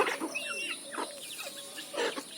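Local backyard chickens clucking, a close cluster of soft clucks and squawks in quick irregular bursts.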